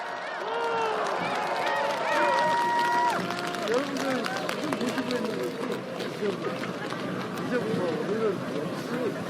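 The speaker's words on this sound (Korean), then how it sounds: "큰 박수 부탁드리겠습니다" Crowd applause at an outdoor presidential campaign rally for a candidate in Incheon, a loud, sustained wash of clapping and cheering mixed with crowd noise, with a voice and music sounding over it.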